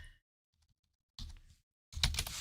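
Two short bursts of keyboard typing, separated by a silent gap, close and fairly crisp.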